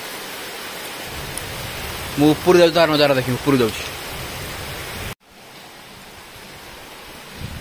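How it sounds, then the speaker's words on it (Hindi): Steady rain pours as a constant hiss, with someone talking briefly over it partway through before a sudden drop to a softer, duller wash of rain. "वर्षा हला"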